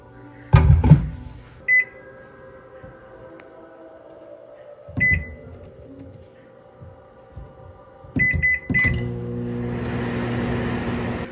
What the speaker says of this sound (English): Now I'll put it back in my microwave, and I'm going to do it at a minute at a time.